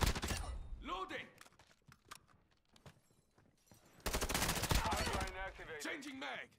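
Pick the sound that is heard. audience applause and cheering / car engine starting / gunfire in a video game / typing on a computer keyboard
gunfire in a video game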